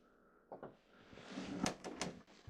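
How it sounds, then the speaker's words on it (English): A stiff wooden drawer is shoved closed, making several close, short scraping knocks and thumps over a low background. "Oh, I can't even close the drawer now."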